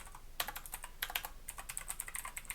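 Quick, faint keystrokes on a PC keyboard come in short irregular bursts, with light clicking clattering close to the mic and brief pauses between runs.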